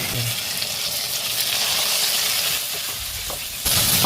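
Cumin paste frying in hot oil in a pan after onions have browned, a continuous bright sizzle with faint stirring scrapes, rising sharply louder near the end.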